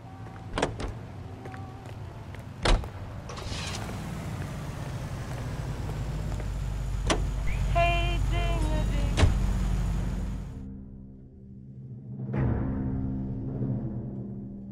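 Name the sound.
ambulance being driven, from the video game L.A. Noire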